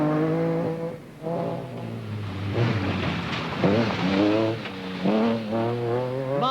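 An MG Metro 6R4 rally car at a rallysprint pulls away from the start. The engine revs climb hard through several gear changes, loud and close at first, then strain onward as the car draws away.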